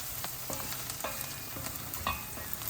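Onions for palak paneer fry in a pan with a steady close sizzle, broken by light clicks and scrapes of stirring, with no talk.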